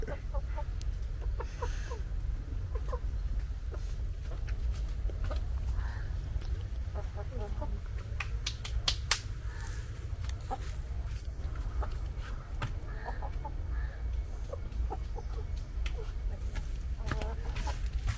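Hens clucking around a rural Kerala home, scattered short calls repeating over a steady low background hum, with speech faintly mixed in.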